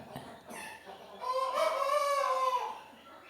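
A thin, tall, skinny farm rooster crows once, a loud drawn-out call that rises and holds before fading, preceded by a few short clucks nearby.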